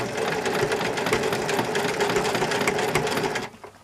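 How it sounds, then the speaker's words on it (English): An old sewing machine stitches through a thick, plain fabric apron, a steady close rapid mechanical whir with fast needle ticking that runs continuously, then cuts off near the end. "And the sewing machine does not like it."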